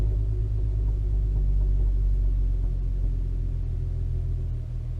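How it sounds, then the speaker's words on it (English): A 2008 Volkswagen R32 exhaust with the resonator deleted idles with a deep, steady rumble and low throbbing pulses, easing slightly lower near the end as the idle drops and the exhaust flapper valve closes. "so now the idle lowers down and the flapper valve closes"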